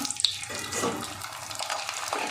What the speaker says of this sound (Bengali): আমার তো এটা ভাজতে ভীষণ ভালো লাগছে। আরেকটা দিই।